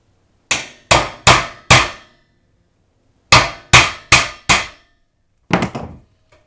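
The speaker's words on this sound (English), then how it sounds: "we're going to put a little starter hole with a nail" A hammer drives a nail to make a small starter hole: four sharp, evenly spaced strikes, a pause, four more, then a final quicker cluster of hits. Loud and close, with no talking.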